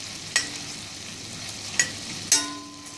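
Lychees sauté gently in a pan under a soft continuous sizzle, with three distinct clicks of a utensil striking the pan spaced across the sound, no talking.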